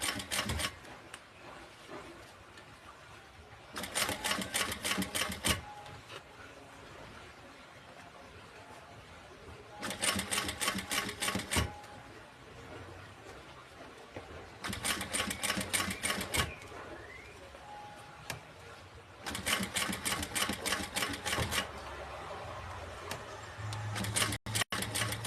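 Sewing machine topstitching fabric in four rapid, rhythmic bursts of needle clatter, each lasting a couple of seconds and separated by quieter stretches of handling noise and faint room sound.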